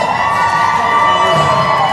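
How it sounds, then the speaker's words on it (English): Jefferson hockey fans cheer loudly at a varsity game against Eagan, a dense roar of shouting and whooping voices filling the rink without pause. "That's the Jefferson fans cheering loud."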